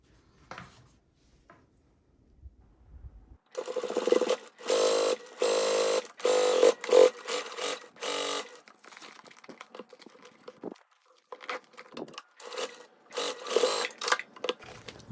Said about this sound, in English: So take it to the machine, make sure you catch all the layers and sew down the top edge.